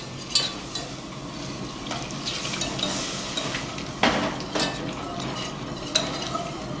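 Cheesy bechamel white sauce whisked in a pot, a steady scraping, sloshing stir with sharper clinks of the whisk against the metal every second or two, close and continuous with no talk.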